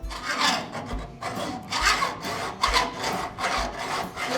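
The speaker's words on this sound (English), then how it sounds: "I'm breaking out the hacksaw" A hacksaw worked by hand cuts through metal in a custom car garage, making about five steady, close rasping back-and-forth strokes at an even rhythm, with no talking.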